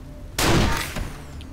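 A single loud gunshot in the Wasteland 2 video game, a sudden sharp blast followed by a short decaying rumble and a faint second thud, no talking.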